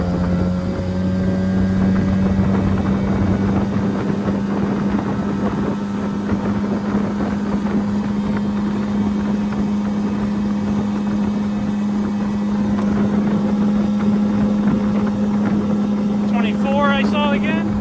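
A motorboat fitted with an 11 pitch prop running on plane, a loud steady engine drone with a strong low tone, wind buffeting the microphone throughout.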